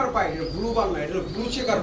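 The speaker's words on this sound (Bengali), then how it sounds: "একেবারে ইয়ং একটা রেসার কবুতর" Soft cooing of a young blue checker female racing pigeon rolls in short repeated bursts beneath a person talking nearby, the calls partly blended with the voice.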